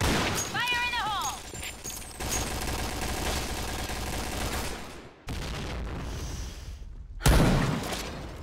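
Gunfire and a grenade blast from the Point Blank shooter game ring out amid continuous battle noise, with a short radio-style voice callout early on and a sharp burst near the end after brief dropouts.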